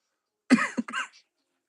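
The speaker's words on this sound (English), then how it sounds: "Let me have a cough." A single close cough in two quick bursts, sharp and throaty, set against silence.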